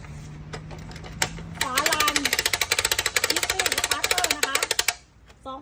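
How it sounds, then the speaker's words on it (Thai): A small petrol or diesel engine with an easy-start pull cover catches and runs in rapid, even chugging pulses for a few seconds before cutting off. A voice speaks over it. "สตาร์ทเครื่องยังไงไม่ให้เปลืองแรงนะคะ"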